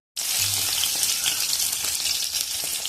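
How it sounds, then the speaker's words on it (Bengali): Rohu fish pieces go into hot oil in a wok and start frying, a sudden loud, steady hiss and crackle of sizzling that begins sharply and stays strong. "তেল আমার ভালো করে গরম হয়ে গেছে, এখন মাছগুলো দিয়ে দেব।"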